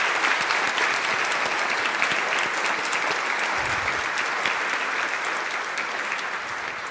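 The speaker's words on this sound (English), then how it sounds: "So if we could give them a round of applause for their support." An audience claps in thanks at a presentation on Chicago students and college success, a dense, even wash of applause that holds steady for about seven seconds with no voices.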